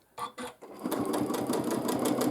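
A sewing machine stitches free motion quilting, opening with a few soft clicks and then running into a steady, rapid mechanical whir that carries on close and even to the end.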